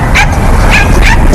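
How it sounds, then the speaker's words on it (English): A dog barks in a dog park, with several close, loud yips and barks in an uneven rhythm over outdoor background noise. "Isaac Fields takes his dog Margot here to this dog park almost every day."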